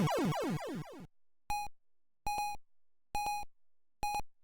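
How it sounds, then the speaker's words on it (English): Mega Man 6 gameplay: a run of rapid descending chiptune tones, then a steady series of evenly spaced electronic beeps repeating about every three quarters of a second, clear and close. "What is that beeping noise?"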